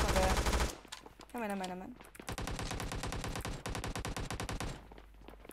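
Bursts of automatic gunfire from a firefight in PUBG Mobile rattle in steady rapid rhythm, loud and fairly close, after a short spoken word and a brief pause.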